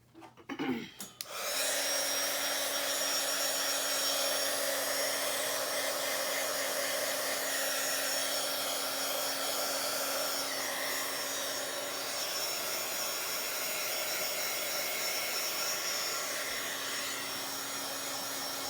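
A hair dryer roars steadily and up close for almost the whole stretch while drying a wet paper craft project, after a short handling noise at the start.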